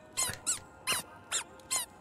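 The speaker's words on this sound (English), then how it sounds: "it's got a squeak then." A squeaky toy in The Last of Us Part II gives five sharp, high squeaks at an uneven rhythm, each brief and close, with quiet pauses between and no talking.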